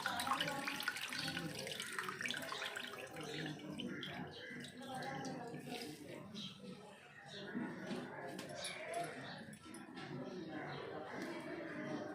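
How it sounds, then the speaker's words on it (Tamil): Water drips and trickles steadily into a sink or bowl as soaked bread is squeezed, under continuous talking. "இந்த தண்ணியை அப்படியே இந்த மாதிரி பிழிஞ்சு விட்டுக்கலாம்."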